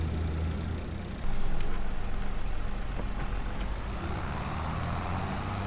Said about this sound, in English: I'm just going to move this combine because it is a little bit in the way for going in and out of that field